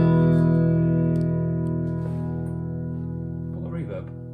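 A sustained chord on an Ibanez AZES electric guitar rings out with a wash of reverb, slowly decaying while a faint voice comes in near the end.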